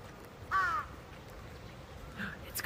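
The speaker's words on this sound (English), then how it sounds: "there are so many birds in this tree" A crow caws once nearby in a tree in Japan, then a fainter call follows a moment later, with a steady outdoor hiss in the background.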